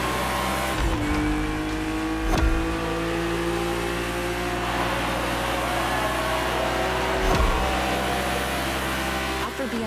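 A BMW engine in the racing game The Crew Motorfest, droning loud and steady throughout with a couple of sharp gear-shift dips, while a voice talks over it.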